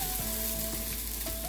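Onions frying in a pan for Filipino homemade pork and beans with spices, a steady close sizzle with faint scraping stirs and no talking.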